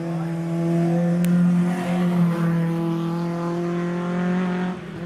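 A Peugeot 205 MI16 race car launches off the line at a sprint event, its engine holding a steady loud drone with strong harmonic bands, rising slightly in pitch before easing toward the end.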